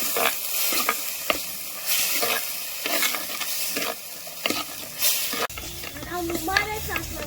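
Greens being sautéed with ginger and garlic in a pan for a tomato-and-greens soup, giving close repeated stirring scrapes over a soft sizzling hiss, with a brief clatter near the end and no voices.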